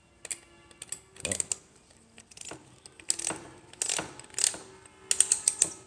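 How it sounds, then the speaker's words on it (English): Screw gun with a clutch working on metal studs for sheetrock, giving short clicky ratcheting bursts and small metallic taps in an irregular run of close mechanical noises. "The screw gun has a clutch built into the shaft in here so that it only goes so far when you're putting in sheetrock"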